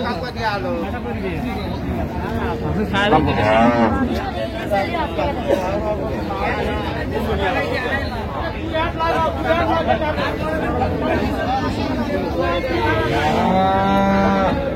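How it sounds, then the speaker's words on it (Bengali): Cows and calves moo repeatedly at a cattle market, long low calls overlapping with people chattering nearby in a busy, noisy setting. "গাভী বাছুর আমরা দেখছিলাম এখানে"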